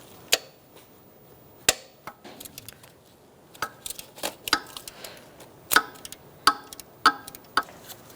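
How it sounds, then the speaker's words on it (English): A ratchet with a 14mm socket works on a bolt on a 2002-2006 Toyota Camry 2.4L L4 during alternator removal. It makes a series of sharp, irregular clicks and knocks, close and distinct, with no talking. "Using a 14mm socket, I'm going to get this bolt here and we're going to loosen it up."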